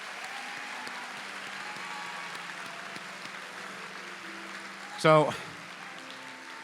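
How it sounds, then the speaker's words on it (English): An audience at a student awards ceremony applauds with a faint, steady wash of clapping, a word spoken near the end. "let's just give one more round of applause to all the 8th grade winners from their schools and all the seniors from their schools"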